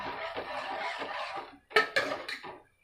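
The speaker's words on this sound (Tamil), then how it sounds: "நல்லா கிண்டிக்கலாம்" A utensil scrapes and swishes around inside a cooking pot of tamarind-based sundakkai vathal kuzhambu, a steady stir followed by a few short, louder scraping strokes.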